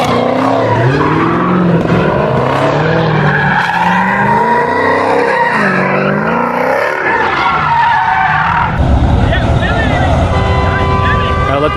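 A 392 car spins its tires at a night car meet, with a loud screeching skid and a revving engine rising and falling under excited voices, nearby and sustained through the clip.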